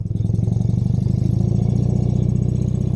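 A classic BMW R75/5 airhead motorcycle engine runs nearby with an even, rapid pulsing beat, a loud steady thrum at low revs without any talking.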